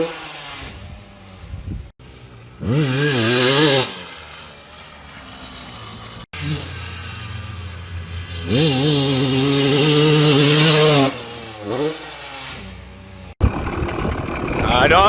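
A Honda CR250R two-stroke dirt bike, fitted with a newly installed hydraulic clutch, revs loudly in repeated rising and falling bursts, wailing up and down between brief quieter idle stretches, close by.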